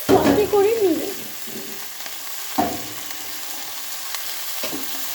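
Vegetables sautéing in a pan for chicken vegetable soup, with a clattering burst of tossing and scraping at the start, then a quieter sizzle broken by occasional stirring knocks.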